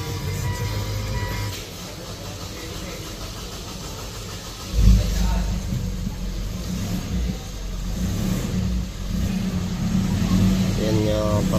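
A Mitsubishi Montero engine after work on the EGR valve, intake manifold, EGR cooler and throttle body, heard starting with a brief thump and then idling in a steady low rumble while a person talks nearby.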